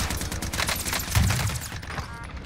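Rapid bursts of automatic gunfire crackle in a Call of Duty Warzone solo match, with a deeper boom midway before the firing thins out.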